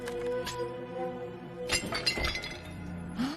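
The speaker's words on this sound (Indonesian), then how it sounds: "Tapi kemudian harta tersebut hancur." A treasure shatters in a fantasy story recap: a dense burst of breaking glass-like crashes and tinkling shards runs through the clip, with a fresh loud crack near the end.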